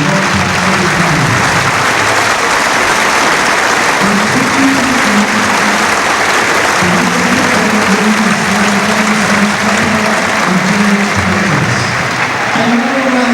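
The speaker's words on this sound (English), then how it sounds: "A minute's applause for Sir Bobby Robson." A football stadium crowd at Norwich versus Colchester holds a minute's applause for Sir Bobby Robson, loud, continuous clapping filling the ground, with a commentator's voice heard faintly over it.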